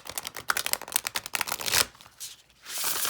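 Rapid crisp riffling of a large tarot or oracle card deck being shuffled, a quick flurry of snaps, then a pause and a softer overhand shuffle.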